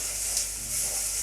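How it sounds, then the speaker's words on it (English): Onion frying in oil in a pan, giving a steady, soft, close sizzling hiss with no talking. "in here I'm just frying my onion"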